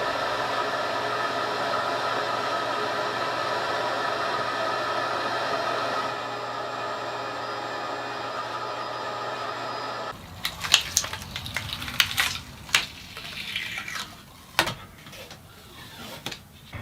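Steady loud whine of a router with a shop vac running alongside for about ten seconds while cutting a bass guitar body, then intermittent clunks, knocks and scraping handling sounds as the whine drops away.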